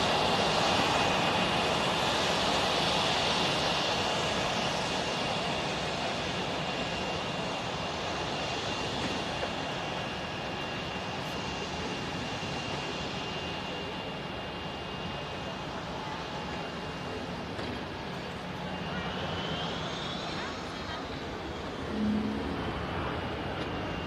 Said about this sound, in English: Another aircraft coming in from Reus, popular destination this morning.